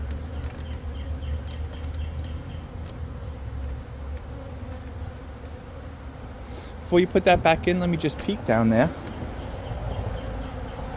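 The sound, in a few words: Carniolan honeybees buzzing during hive inspection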